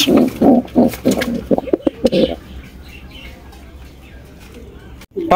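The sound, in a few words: white Danish pigeons cooing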